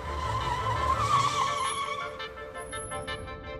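A taxi cab driving and accelerating, its engine giving a steady whining tone that rises briefly and then eases, with tire and road noise, close and fairly loud, no talk.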